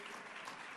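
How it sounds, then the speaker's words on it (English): An audience applauds in a dense, even wash of clapping hands that fills the whole short moment without a break. "So, and now everybody is clapping for that."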